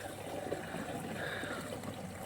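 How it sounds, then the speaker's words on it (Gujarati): Water poured and trickling steadily into a farm spray pump tank at a cumin field, a constant close splashing flow with no voices. "પપ ભરવાને પાણી નાખશે"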